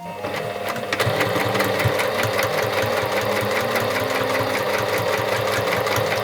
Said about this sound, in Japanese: ここをミシンで縫っていきます。 ミシンかけます。